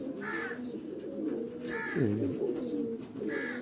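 Rooftop pigeons kept in Karachi coo softly, low throaty rolling calls recurring several times at a moderate distance, with no talk over them.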